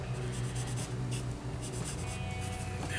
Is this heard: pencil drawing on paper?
yes